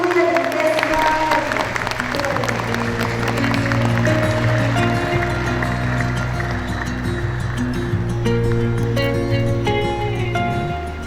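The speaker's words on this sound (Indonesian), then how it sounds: "marilahkita sambut dengan tepuk tangan yang meriah" An audience greets an arriving guest at a gathering at Suryalaya with sustained applause, a steady crowd of clapping hands that runs for over ten seconds alongside sustained instrumental music playing in the background.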